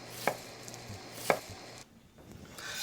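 A knife chops roasted, peeled chiles with habanero, cilantro and red onion on a board, with two sharp distinct strikes about a second apart and a few softer taps after, quiet and close with no talk.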